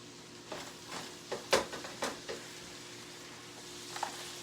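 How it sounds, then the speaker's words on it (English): Browned ground meat for keto chili sizzles and simmers in a pot, a low steady crackle with a few louder stirring scrapes and clinks early on, then settling into a quiet bubbling hiss. "I'm just going to let it simmer for a minute."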